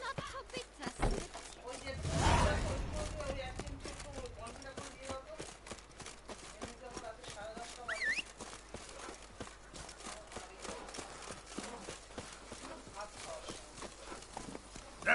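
Roach the horse galloping in The Witcher 3: Blood and Wine, a steady run of close hoofbeats with a brief snort or whinny early on, while a player talks over the game audio.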